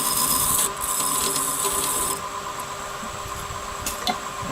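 A tool cuts shallowly into a mesquite burl wood bowl with a steady, hissing scrape that eases partway through and continues more softly.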